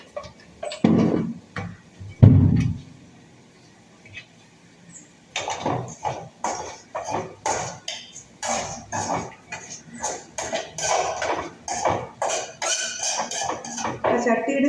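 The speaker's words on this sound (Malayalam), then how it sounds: "മുളക് പൊടി ചേർത്ത് ഇളക്കിയെന്ന് വെച്ചാൽ മതി" A spoon stirs chili powder into frying food in a pan, making irregular scraping and clinking strokes against the metal, which become busier and more continuous in the second half after a couple of louder thumps early on.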